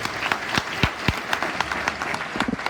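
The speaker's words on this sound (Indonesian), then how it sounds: "Tepuk tangan buat teman-teman sekalian di sini." Audience applause fills a motivational seminar hall, a dense, steady patter of many hands clapping close by, with a few sharper individual claps standing out throughout.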